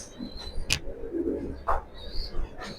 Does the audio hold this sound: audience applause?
no